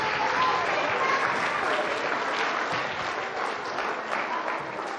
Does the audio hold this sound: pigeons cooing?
no